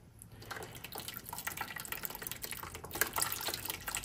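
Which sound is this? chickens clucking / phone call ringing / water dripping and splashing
water dripping and splashing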